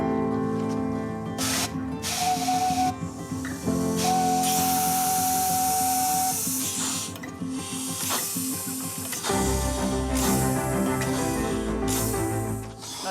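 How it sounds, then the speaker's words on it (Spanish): A steam locomotive hisses and spits steam in loud, broad bursts that come and go. Sustained tonal sounds run underneath throughout. "Ruge como un monstruo y escupe vapor."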